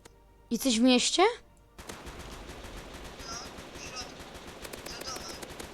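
Rapid automatic gunfire from shooting in the Roblox video game rattles steadily for several seconds, following a brief burst of speech at the start.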